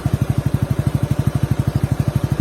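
A motorcycle lying on its side makes an abnormal rapid, regular clattering pulse, a fast even knocking rhythm that repeats steadily and close by, with no talk over it.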